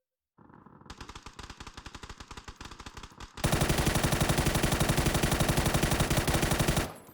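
Automatic gunfire from PUBG recoil practice, a rapid steady stream of shots that starts in quick bursts and then becomes a denser, louder sustained volley before stopping abruptly.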